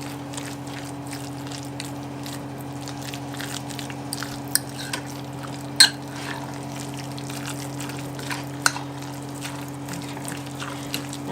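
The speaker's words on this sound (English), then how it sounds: "I'm going to take a fork. I'm going to kind of mix all this in." A fork works through keto meatloaf ingredients in a bowl, making soft, wet squelching and scattered light clicks over a steady background hum, close and quiet.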